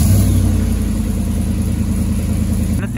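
The engine of a fully built vehicle runs loud and close with a steady, deep rumbling drone that holds throughout without a clear break.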